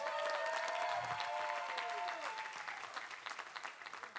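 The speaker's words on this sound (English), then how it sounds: "they all deserve some applause, so let's go for it" Audience applause at a university new-student convocation, many hands clapping together with a whistle early on, loud at first and then thinning into scattered claps.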